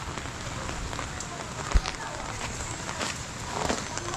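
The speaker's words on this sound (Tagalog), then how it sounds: "dahil po medyo malakas ang ulan, masama ang panahon" Heavy rain falls at a river in stormy weather, a dense and steady hiss of drops with a few louder splashes. Faint voices can be heard under the downpour.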